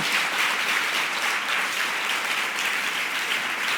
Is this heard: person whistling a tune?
no